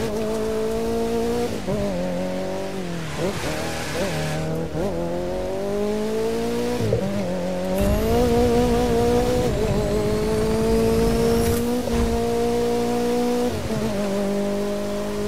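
A street racing car in the video game The Crew 2 drives loudly and steadily, its engine rising and falling through repeated gear shifts, with occasional tire squeals over a continuous roar.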